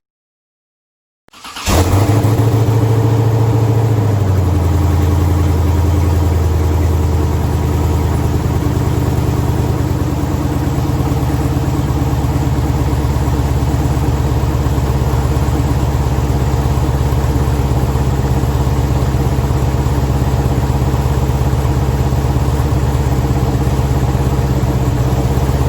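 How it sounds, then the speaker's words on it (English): A twin-turbocharged LS3 V8 in a Monte Carlo SS G-body cranks and fires up, then settles into a loud, steady, rumbling idle that holds close and alone for more than twenty seconds. "So now I'm gonna let you guys hear the car turn on."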